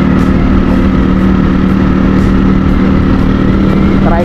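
Motorized tricycle on a rural road, its steady mid-pitched engine droning close and loud throughout with little change, heard from nearby without talk.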